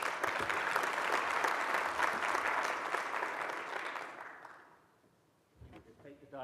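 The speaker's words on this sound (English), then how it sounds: "I think that deserves a round of applause." Applause from an indoor audience at a signing ceremony for a transit agreement, a steady burst of clapping that fades out over several seconds before a voice begins.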